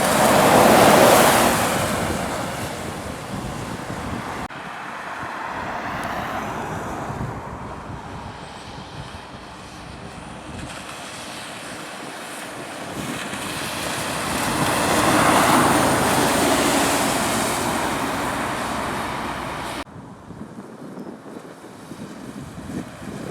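Steady wet hiss of rain and spray at the Truckers Rest truck stop on the A5 near Cannock, with passing trucks swelling and fading on the soaked roadway, broadband and continuous, no talk.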